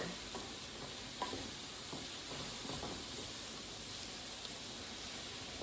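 Onions and mushrooms fry over medium-high heat in a pan, a steady faint sizzle with occasional soft stirring clicks, continuous and without talk.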